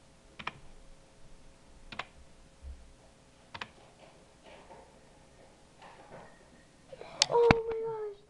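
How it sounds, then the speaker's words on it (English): Sparse, separate keystrokes on a computer keyboard in a quiet room, a few isolated clicks spaced about a second apart, followed by a louder burst of clatter and a brief voice near the end. "Please type the secret letters you see here."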